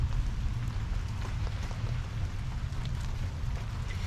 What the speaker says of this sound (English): It's kind of nice to just listen to the rain.